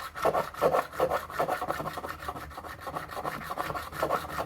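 A crowning file scrapes back and forth over stainless steel frets on a Gretsch guitar, a steady rhythmic rasping of repeated close, loud strokes with no talking.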